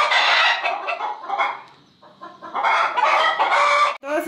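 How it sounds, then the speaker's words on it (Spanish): Chickens and roosters on a Mexican ranch clucking and calling loudly and nearly nonstop, with a short lull in the middle before the dense clucking resumes close by. "Todas estas gallinas bien bonitas."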